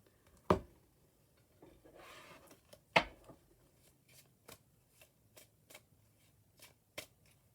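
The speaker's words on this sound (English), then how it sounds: "We're going to pull in some oracle cards." Oracle cards being shuffled by hand close up, a few riffled bursts and sharp taps, then a steady series of soft card slaps and flicks, quiet and alone with no talk.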